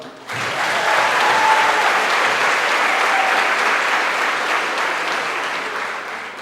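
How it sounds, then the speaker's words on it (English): A graduation audience at a City Poly ceremony applauds its City College teachers, a loud, dense burst of clapping that starts abruptly and holds steady for several seconds before tapering slightly. "So let's give an applause to all of them."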